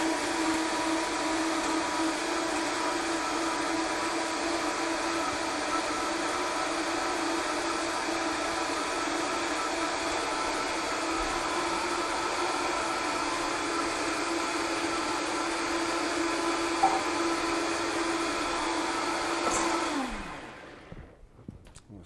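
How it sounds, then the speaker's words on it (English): A kitchen blender mixes breakfast batter with a loud, steady mechanical whir that holds for about twenty seconds, then winds down and stops; no one speaks over it. "Turn on the blender."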